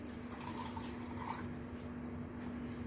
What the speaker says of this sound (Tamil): இந்த மாதிரி தண்ணி கொஞ்சம் ஊற்றிக்கணும்